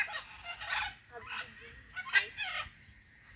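Harsh, raspy squawks from macaws outdoors near a rural home, several loud calls spaced unevenly over a few seconds with no talk over them.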